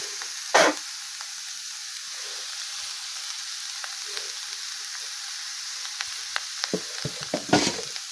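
Pre-boiled banana stem (thor) with turmeric and a little sugar is stir-fried in oil, giving a soft steady sizzle broken by a few sharp scraping stirs near the start and end.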